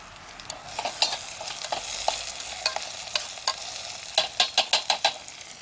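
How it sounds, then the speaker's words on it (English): Bacon and garlic sizzle softly in a camp cooking pot while a utensil scrapes and stirs, with a quick run of sharp clinks near the end over the steady frying hiss. "I added the bacon and the garlic. Man, I can smell the garlic starting to go."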